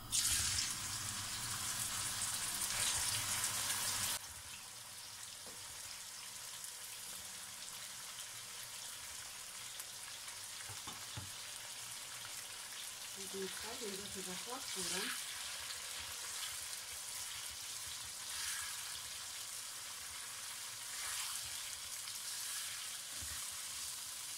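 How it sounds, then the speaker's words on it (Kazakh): Meat frying in hot oil in a kazan while a Kazakh palau is cooked, with a loud initial burst of sizzling that settles into a steady crackle, plus a few brief clinks and a short stretch of faint speech. "қазір үстінен етімізді салып қуырамыз."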